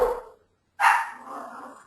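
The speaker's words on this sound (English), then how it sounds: "my dog is barking her head off" A pet dog barks at close range indoors, two sharp loud barks separated by a brief silence, the second trailing into a rough, lingering yelp.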